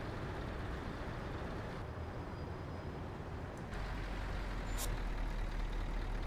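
A stretched Scania truck in a driving video game rolls along with a steady low engine drone and road rumble, ending in a short air-brake hiss, moderately loud with no voices.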